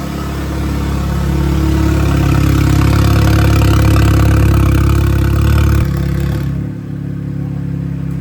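Loud, steady idle from a 2015 Audi A3 four-cylinder turbo engine running a catless open downpipe, a close, constant low drone that holds for about six seconds before dropping away.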